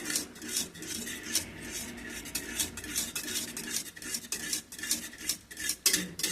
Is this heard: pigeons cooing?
no